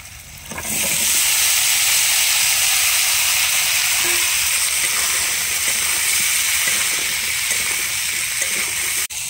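Small-cut cauliflower, onion stalks and potatoes fry in hot oil in a pan, a loud, steady hiss and crackle that swells in within the first second and holds close and unbroken to the end.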